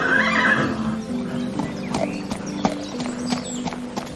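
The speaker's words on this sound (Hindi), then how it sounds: "तो बस वल्लभार्यन का घोड़ा तेजस कदमपुर की ओर दौड़ पड़ा" A horse in a Hindi historical audio drama whinnies loudly at the start, then its hooves beat in an irregular series of clops as it sets off running, with a busy background layered underneath.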